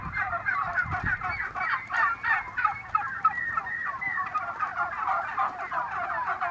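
Adult turkeys on a Turkish poultry farm gobble continuously, many birds calling at once in overlapping, rattling bursts that fill the whole stretch with no speech.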